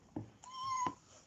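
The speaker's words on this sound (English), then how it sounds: "It mews." A toy cat gives a single close, clear electronic mew in a quiet indoor room, a short tone held for about half a second and ending on a soft click.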